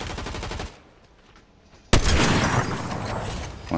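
Video game gunfire: one dense burst of rapid shots, then a brief near-quiet lull, then a sudden loud, sustained volley of close shooting with booming impacts that continues to the end.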